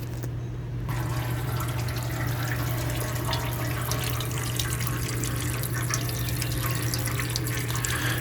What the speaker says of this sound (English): you'll notice the fluid starting to drain out